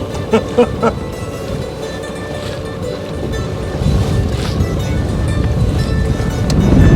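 Strong wind of about 20 knots rushes past a sailboat at sea, with waves washing against the hull and heavy buffeting on the microphone, a loud continuous roar that builds toward the end.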